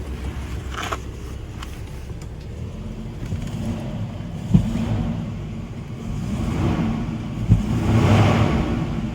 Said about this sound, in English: I'll give it one little rev.